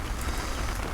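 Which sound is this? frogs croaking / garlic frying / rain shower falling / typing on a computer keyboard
rain shower falling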